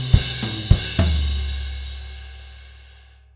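Drum kit playing a short bar: three accented hits with crash cymbals on the downbeats and tom fills between, the final crash ringing out and slowly decaying to silence, close and loud with no voices.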